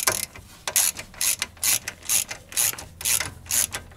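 Ratchet wrench clicking rapidly in repeated strokes while loosening bolts to remove the brake caliper on an Audi A3, close and crisp with brief gaps between pulls.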